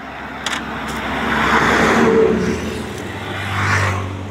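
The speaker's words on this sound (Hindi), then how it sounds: "और इस रोड पर ट्रैफिक बहुत है" Vehicles pass along a busy highway road near Najibabad, with engine and tyre noise swelling and fading as they go by, one heavier vehicle rumbling low near the end, no talk.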